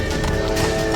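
Geralt's horse Roach gallops in The Witcher 3: Blood and Wine, a fast, steady run of close hoofbeats with a snort or whinny, set against a loud, busy game soundscape.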